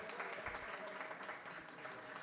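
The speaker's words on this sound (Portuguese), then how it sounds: "Jennifer, uma salva de palmas a Jennifer Price." Brief, fairly faint applause from an audience at an executive board meeting, a steady patter of clapping greeting a guest from Miami.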